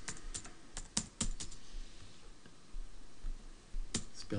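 Quick, light keystrokes on a computer keyboard, in a few short bursts of clicks separated by pauses, close and fairly quiet, with no voices.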